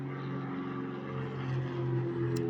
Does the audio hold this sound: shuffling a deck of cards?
no